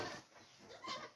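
Goats, a pair of polled pregnant does offered for sale at a farm in Alagoas, bleat briefly and moderately close, with one short call rising near the end.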